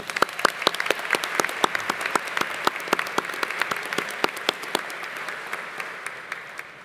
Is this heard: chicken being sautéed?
no